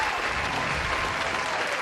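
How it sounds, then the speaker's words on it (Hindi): A crowd claps steadily and loudly throughout, a dense wash of applause with no breaks. "तालियां रुकनी नहीं चाहिए दोस्तों।"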